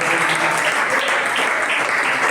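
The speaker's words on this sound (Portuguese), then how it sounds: "Um aplauso para esse" Church congregation breaking into loud, dense applause during a service, a sustained close wash of clapping with no pause.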